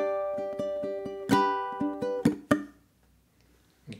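Two bars of fingerpicked ukulele melody, quick plucked notes building to a few stronger strums before fading into near silence, close and unaccompanied.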